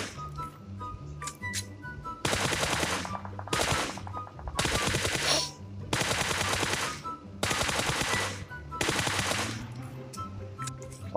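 Automatic weapon fire from a first-person shooter video game comes in several loud sustained bursts, each a couple of seconds long, with game background sound in between.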